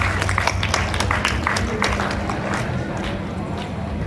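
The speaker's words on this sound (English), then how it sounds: "Clap louder, everyone." Steady, loud applause from a school audience at an investiture ceremony for an appointed prefect, a dense wash of clapping that continues without a break.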